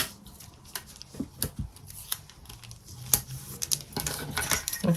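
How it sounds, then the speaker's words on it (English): Adhesive tape is stuck down during a sewing project, giving a run of close, irregular crackling, tearing and tapping bursts with short quiet gaps between them and no speech. "Just going to stick another piece of tape down here."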